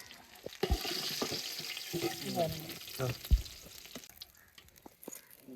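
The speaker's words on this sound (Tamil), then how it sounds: "சிக்கன்லாம் பொரிச்சு முடிஞ்சு கடைசியாக இறக்குறேன்." Chicken pieces frying in hot oil for Arabian-style chicken kabsa, a steady sizzle with a few sharp stirring clatters and spatters close by, no voices.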